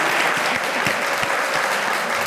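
Brief studio audience applause on a talk show, dense steady clapping with a few sharper claps standing out, heard alone.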